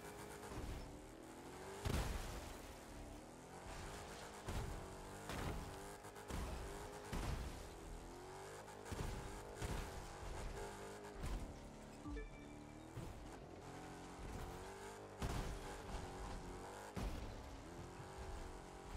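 Car racing across sand dunes in The Crew 2, its engine revving and surging loudly with repeated booming impacts and tire noise.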